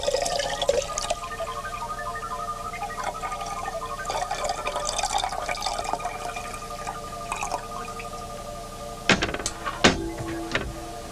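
Hot water poured for a simple science experiment with butter, a pea and a spoon, a continuous close trickling pour with faint drips, followed near the end by a couple of sharp knocks.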